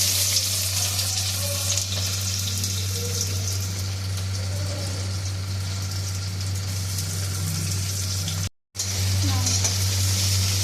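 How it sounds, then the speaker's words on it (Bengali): Onions frying in hot oil with bay leaf, cardamom and cinnamon for an egg and potato curry, a steady close sizzle with occasional stirring scrapes and a low constant hum, briefly cut out near the end. "এটাকে একটু নাড়াচাড়া করে তেলের মধ্যে দিয়ে দিচ্ছি পেঁয়াজ"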